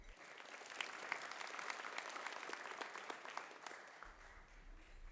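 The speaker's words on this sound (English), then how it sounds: "Let's give one more round of applause for our senior class and student council senior officers." An audience at a high school honor awards assembly applauds with steady, dense clapping that fills the hall for about four seconds before thinning out.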